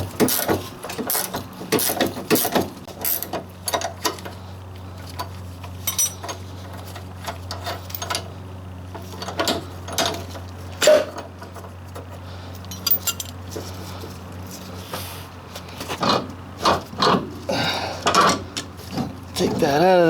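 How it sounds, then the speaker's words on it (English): Metal wrench clinking and ratcheting on a sway bar link of a 1998 Chrysler Cirrus during suspension work, a series of sharp irregular metallic clicks and clanks over a low steady hum. "Gotta stick a wrench in here to hold it."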